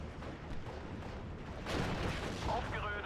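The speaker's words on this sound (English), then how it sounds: "gonna speed forwards here a little bit to avoid that artillery shell" Artillery shell fire in Steel Division: Normandy 44 during a Colleville battle, a dense rumbling barrage that swells louder halfway through, with crackling impacts under continuous battle noise.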